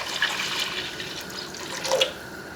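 Water pours from a tap into a cooking pot holding chicken stock ingredients, a soft steady splashing stream at moderate distance, quiet with no voices.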